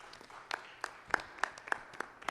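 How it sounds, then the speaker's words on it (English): Applause at a school board of education meeting, a short round of scattered hand claps with a steady, moderately loud rhythm and no one speaking over it. "If we can give them a little round of applause."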